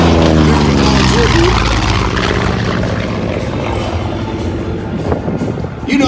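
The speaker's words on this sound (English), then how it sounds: "A great Allison V-1710 engine." P-40 warplane with an Allison V-1710 engine flying over an air show in Redlands, California, a loud propeller drone that gradually fades as it passes, with an announcer speaking over it.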